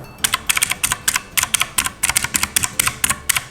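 Rapid, crisp clicking of mechanical blue-switch keys on a Xiaomi Lofree calculator being pressed in an uneven typing rhythm, close and clear with no voices.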